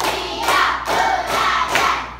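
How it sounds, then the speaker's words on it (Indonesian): A class of schoolchildren claps a counted pattern together, giving several loud, rhythmic bursts of group clapping in quick succession, close and even in tempo. "tepuk 1, tepuk 2, tepuk 3, tepuk 4, tepuk 5"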